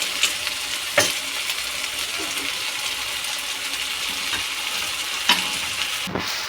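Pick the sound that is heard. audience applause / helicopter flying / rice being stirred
rice being stirred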